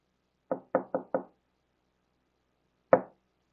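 Knocking on a back door: four quick, clear raps in a fast cluster, a pause of over a second, then one single knock, all close and crisp in a quiet room without talk.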